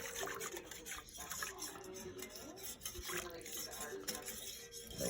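A spoon scraping around the sides of a pot of gumbo with andouille, lobster and shrimp, producing continuous rubbing and scraping with light clinks, close and fairly loud.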